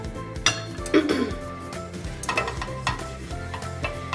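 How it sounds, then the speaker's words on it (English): Oil sizzles and crackles steadily as cumin seeds fry, with a few clinks and scrapes of a spoon against the pan throughout. "We're going to wait for the cumin seeds to sizzle a little bit."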